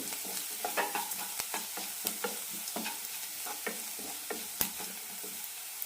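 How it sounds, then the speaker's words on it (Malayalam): Fried onions are stirred with cumin powder, turmeric and chili powder in a hot pan for potato rice: a soft sizzle under a steady run of close spatula scrapes and taps. "ജീരകപ്പൊടി മഞ്ഞൾപ്പൊടി മുളക് പൊടി നന്നായി മിക്സ് ചെയ്യാം"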